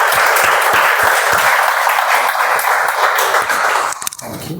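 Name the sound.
audience applause welcoming Toastmaster Samir to the stage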